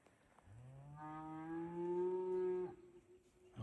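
A single long, deep moo from cattle grazing around a desert campsite among cholla cactus, fairly close and loud, rising and holding steady for about two seconds before breaking off into quiet.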